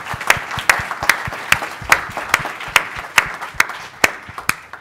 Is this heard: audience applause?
yes